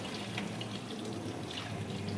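Hot water runs steadily from a tap over a K&N air filter being rinsed for a BMW M2, a continuous close splashing wash with no voices.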